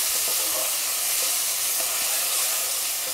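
Chopped peeled tomato fries in a pan for an Indian arvi chicken dish, giving a steady close hiss with faint sputtering pops throughout and no talking.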